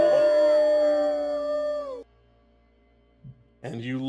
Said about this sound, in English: And start to hear this howl multiply.